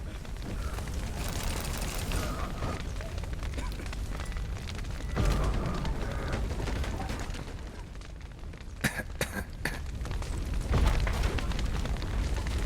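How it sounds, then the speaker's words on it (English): A burning roof collapses in The Witcher 3, with a heavy rumbling crash, crackling fire and sharp wooden snaps over steady roaring flames, brief bursts standing out near the end. "Roof's collapsed!"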